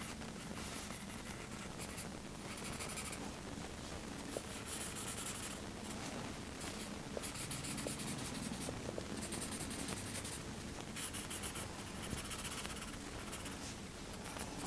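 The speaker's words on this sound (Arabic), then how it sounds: "باخد بقلم التسييح، وقلم التسييح او اسمه قلم الدمج، لانه بيدمج الدنيا زي ما انت شايف كده" A blending pencil rubs over pencil shading on paper while a face is drawn, making a quiet, continuous scratchy scrubbing with short repeated strokes and no speech.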